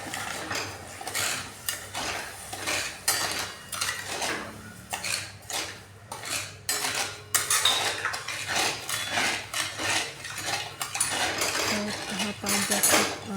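A spoon stirs sugar and water into syrup in a pan for rava laddoos, producing repeated metallic scrapes and clinks against the pan in an irregular rhythm, close and moderately loud, with no talking.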